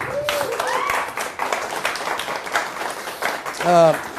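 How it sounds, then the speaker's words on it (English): Audience applause for Vanessa, a volunteer at a stage show, with steady clapping mixed under cheers and whoops, and voices rising over the clapping near the end. "Give Vanessa a big round of applause."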